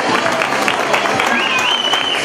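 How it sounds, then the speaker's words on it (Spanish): Crowd applause at an outdoor San Silvestre race award ceremony in Cadreita on New Year's Eve, steady dense clapping filling the whole moment, with a faint voice and a whistle-like tone over it. "Un fuerte aplauso."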